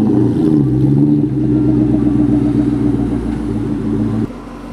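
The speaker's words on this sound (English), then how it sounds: "I'm gonna pull the Cobra in and I need to readjust it." A Ford Mustang Shelby GT500 Cobra idles and creeps forward close by with a loud, deep, steady engine rumble and slight throttle variation, then drops off abruptly near the end.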